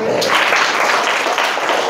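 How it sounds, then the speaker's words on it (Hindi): Crowded, steady applause from a group of students at a training camp class, close and loud hand clapping that fills the whole stretch with faint voices mixed in. "ताली बजाइए भैया।"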